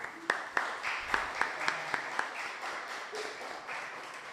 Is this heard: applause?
yes